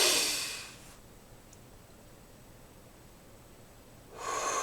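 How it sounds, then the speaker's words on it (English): A single deep breath, a loud hissing inhale followed after a few seconds of quiet by an equally strong exhale, close and alone. "let's go ahead and take a deep breath"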